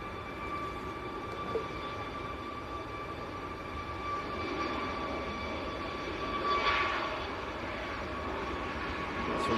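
Ryanair Boeing 737 Max departing Manchester Airport for Rome, a continuous distant jet engine roar with a faint steady whine, gradually building in loudness; no talk.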